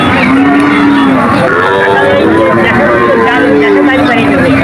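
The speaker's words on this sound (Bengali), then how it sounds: "আমার সামনে দুটি ফ্রিজিয়ান জাতের বাছুর দেখা যাচ্ছে।" Friesian heifer calves moo loudly and close by at a busy cattle market, drawn-out overlapping calls over a dense background of crowd noise and nearby voices.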